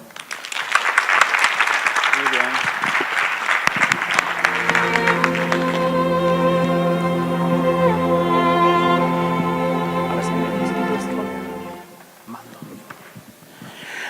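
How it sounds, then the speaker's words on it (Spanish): Applause breaks out from an audience welcoming a lecturer at a mystery-themed talk in Valencia, dense clapping that fades after a few seconds as a sustained tonal musical sound swells and carries on before ending. "Un aplauso."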